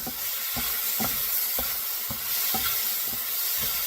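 Italian sausage and mushrooms browning in a cast iron skillet, a close continuous sizzle broken by rhythmic scraping stirs roughly every half second, no talking.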